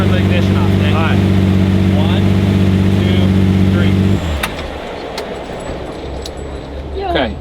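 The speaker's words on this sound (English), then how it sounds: "You're gonna start the car." A Lamborghini engine runs with a loud, steady low rumble close by, then cuts off abruptly partway, leaving quieter background noise with a few sharp clicks.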